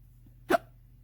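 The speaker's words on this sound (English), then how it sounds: "Sorry, hiccups." A single short hiccup from a person, sharp and close, standing alone against a quiet room background.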